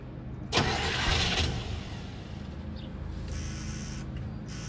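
A 1992 Chevy truck engine cranks and catches on its first start after sitting for eight years, then settles into a steady, close idle with a burst of spray-like hiss at the start and no talk.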